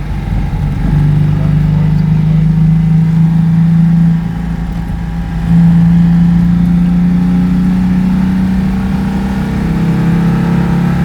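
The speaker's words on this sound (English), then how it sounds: "listen to the throaty roar" A Citroën 2CV engine with 652 cc displacement hums with a deep, throaty roar that swells as it revs, then eases back and climbs again, close by.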